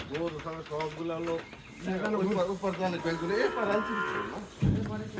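Several cattle moo in a row, loud, drawn-out calls close by, overlapping one another with a brief scuffling noise near the end.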